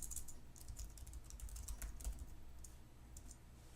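Computer keyboard keys tapped in a steady run of quick, light clicks while a username and password are entered, close and quiet with no voices.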